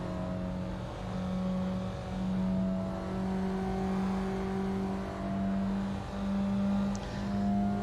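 A Mazda MX-5 Miata engine droning steadily while lapping the Monza circuit, revs rising and falling in repeated cycles with brief dips between gear changes, close and continuous with no talk.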